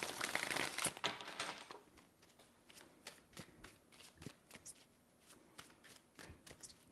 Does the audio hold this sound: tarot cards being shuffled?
yes